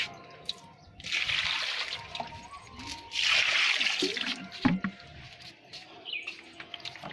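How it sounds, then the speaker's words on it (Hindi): Water poured from a container onto garden plants such as marigolds and aloe vera, heard as two separate bursts of hissing splash with faint bird chirps in the background. "और पानी डाल दिया।"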